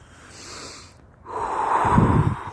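Outdoors in nature, a person takes a soft inhale, pauses, then draws one deep, loud breath through the nose close to the microphone.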